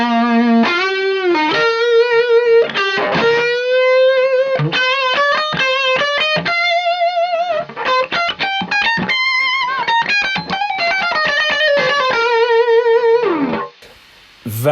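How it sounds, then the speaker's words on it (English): Electric guitar plays the Bohemian Rhapsody solo through a gain booster, a loud, sustained, singing lead line of bends and held notes with a distorted edge, running almost continuously before cutting off near the end. "let's also flick the gain booster on, and you'll see what kind of difference that makes."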